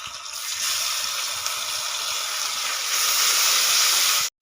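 A ground paste of chili, ginger, black mustard seed and onion sizzles in a hot pan for a silver carp curry, giving a steady, loud, broadband hiss that holds for about four seconds and then cuts off abruptly.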